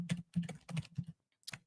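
Typing on a computer keyboard, several quick bursts of key clicks in an uneven rhythm with a short pause before a final keystroke, close and moderately quiet.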